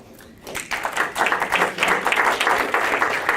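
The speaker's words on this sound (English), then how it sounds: "I got a clap from Carl Anthony." Clapping breaks out in an audience at a talk on environmental justice, starting after a quiet moment and building into steady applause that holds to the end.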